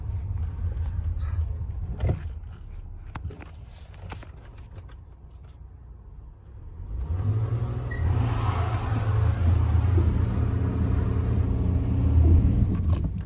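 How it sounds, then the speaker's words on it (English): A Ram pickup truck sits at a quiet idle with faint background noise, then its engine roars up into a loud, sustained rev that holds until the end. "And that was me giving it all gas."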